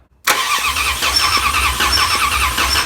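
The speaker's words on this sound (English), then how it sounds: "Let's hear what that new starter sounds like" A 1967 Dodge Coronet engine with a new starter cranks briefly and catches almost at once, then runs with a loud, steady idle, close by.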